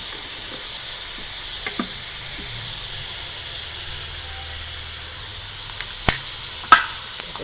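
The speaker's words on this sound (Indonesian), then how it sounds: "kita aduk-aduk ini nasinya" Rice sizzles steadily in a hot pan as it is stirred for nasi liwet, with a couple of sharp utensil scrapes near the end.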